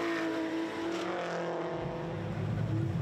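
Race cars at a VLN endurance championship round, with an Audi R8 and Falken-run cars in the pack, roar past in a steady, loud engine drone that holds for a few seconds with no talking.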